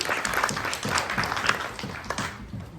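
An audience at a stage play festival breaks into dense, steady applause for writers, directors and actors, a close wash of many hands clapping that fades toward the end.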